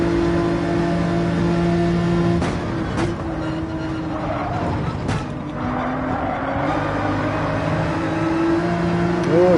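A race car engine whines steadily during a Gran Turismo 7 race, its pitch dipping and rising as the car brakes and accelerates, with a few sharp clicks partway through.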